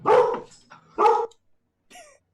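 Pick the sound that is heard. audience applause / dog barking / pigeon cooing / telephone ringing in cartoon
dog barking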